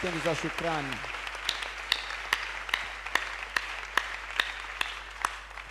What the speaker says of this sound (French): Nous acclamons pour ces remerciements et actions de grâce.